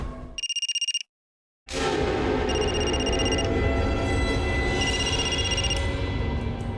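A telephone rings in short repeated bursts, drops out briefly, then keeps ringing loud and close in a crime drama scene, with a steady electronic tone and no talk.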